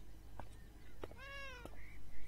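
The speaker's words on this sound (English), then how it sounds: "Hello there, kitty." A cat in the video game Beyond Eyes gives a single clear, rising-then-falling meow at moderate distance over soft ambient background, with a couple of faint clicks around it.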